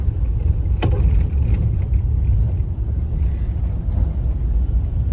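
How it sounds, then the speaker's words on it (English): Construction trucks rumble steadily at a road construction site on the Ofankor-Nsawam Road where concrete is being poured, a loud continuous low engine drone with a sharp knock early on. "construction trucks moving."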